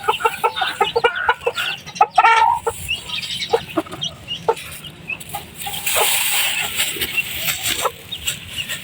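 Silkie chickens cluck in a steady stream of short, close calls while a mother hen guards her chicks, with busier overlapping clucks midway and a faint rustling hiss underneath.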